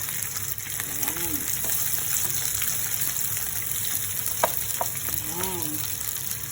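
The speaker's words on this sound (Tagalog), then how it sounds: "halu-haluin lang ang sibuyas hanggang magluto" Onions sizzle steadily as they sauté in a pot for pork sinigang, with occasional stirring scrapes over the constant frying hiss and a few faint background chirps.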